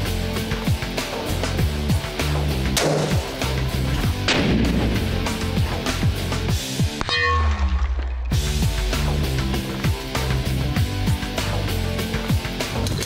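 Thompson/Center Long Range Rifle firing, heavy booming report with a long ringing tail, repeated blasts filling the span and a brief quiet gap midway, loud and close with no talking.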